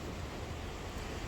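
Ocean waves wash against the rocky coast at Pyramid Rock on Phillip Island, a continuous broadband roar mixed with wind noise and no voices.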